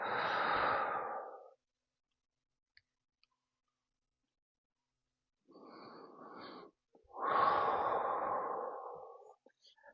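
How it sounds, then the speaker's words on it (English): Slow, deep breaths during a seated yoga twist: a long breathy exhale, a pause of silence, then two more airy breaths, the last one louder and drawn out, close to the listener. "Breathing here."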